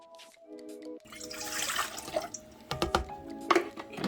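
Water pours and splashes into a container for gluten-free pizza crust dough, a close, bubbling, trickling stream after a short tonal beep at the start.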